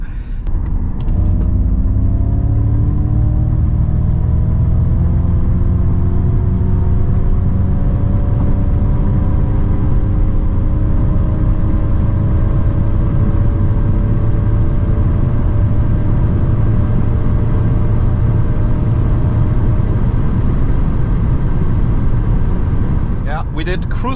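A Ford Mustang Mach-E GT electric car with 490 hp plays a synthetic driving sound through its cabin speakers on the autobahn, a loud, constant low hum with gliding tones as it accelerates.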